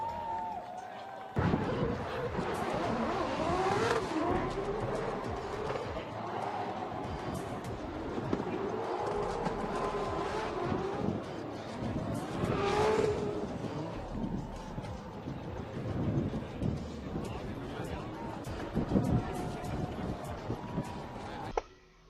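Drift cars racing on a track, a continuous loud engine roar with rising and falling revs and tire noise, holding steady for about twenty seconds before cutting off.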